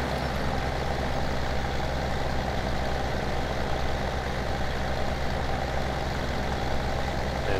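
A tractor engine in Farming Simulator 17 drones steadily and fairly loud, a low continuous hum under a heavy load, unbroken for the whole stretch with no talking.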